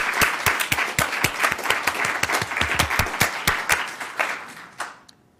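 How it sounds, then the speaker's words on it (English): A conference audience applauds steadily, crisp overlapping claps that carry on for several seconds before thinning out to a few last claps. "So please join me in giving them a round of applause."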